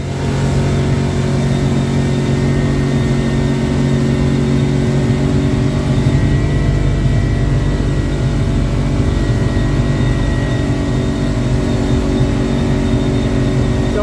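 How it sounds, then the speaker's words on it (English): A motorboat engine runs steadily at speed after a propeller change, a loud constant drone with RPMs climbing to about 5,500 near 29 to 30 mph, mixed with continuous water and wind noise. "RPMs are coming up."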